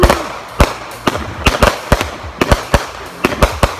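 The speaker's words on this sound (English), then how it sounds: "This is the YouTube pyro." Consumer fireworks let off at a Fourth of July backyard show burst in a rapid irregular string of sharp, loud cracks and pops, about a dozen close together with crackling between them and no talking.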